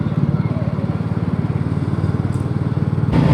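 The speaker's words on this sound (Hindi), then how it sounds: "बाइक्स पे कितने लोग जा रहे हैं" Pilgrims' motorbikes ride past on a road toward a hilltop shrine, a steady close engine drone pulsing evenly throughout, with a brief louder surge near the end.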